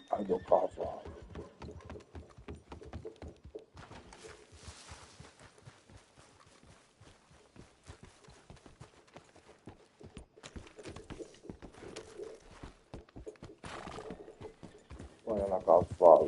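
A horse in the video game Red Dead Redemption 2, with rhythmic trotting hoofbeats throughout and loud whinnies near the start and end, close and clear, with no talking.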